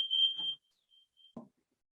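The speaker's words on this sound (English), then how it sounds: "we're also going to deal with a fire alarm." A single piercing smoke-alarm chirp rings out steadily for about half a second, followed by a few faint short beeps and a brief thump in an otherwise quiet room.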